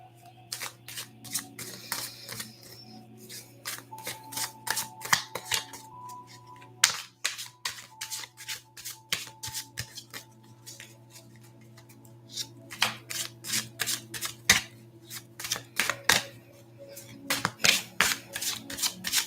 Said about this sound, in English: So I'm going to pull out a few cards here.